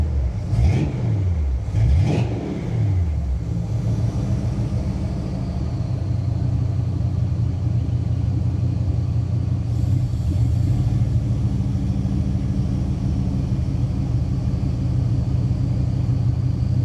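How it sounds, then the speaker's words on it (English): Big block engine in a 1986 Buick Regal Limited revs up twice in quick surges, then settles into a loud, steady idle rumble close by. "Give her a little rev up."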